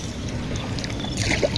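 Water swishes and laps steadily around a village boat moving along in the afternoon, close and continuous.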